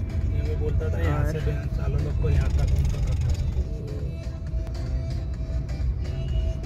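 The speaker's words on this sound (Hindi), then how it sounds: "ये देखिए अब जाके ट्रैफिक में से निकल पड़ रहे हैं" Busy road traffic in Vadodara, with cars driving and engines rumbling steadily nearby as a vehicle moves out of a jam, while people talk throughout.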